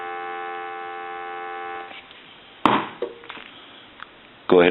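A steady dial tone from a Radio Shack clear Trimline telephone hums for about two seconds, followed by handling clicks and clunks as the line is worked, and a loud burst near the end.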